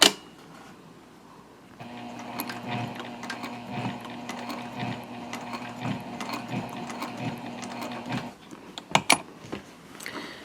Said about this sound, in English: now I'm going to sew up to my first line of stitching